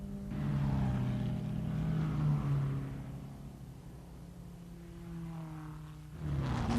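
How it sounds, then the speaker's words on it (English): 1957 Lancia-Ferrari Formula 1 cars round the Karussell at the Nürburgring during the German Grand Prix, a steady mid-distance engine drone with a wavering pitch that holds throughout and swells again near the end. "The Lancia Ferraris round the carousel"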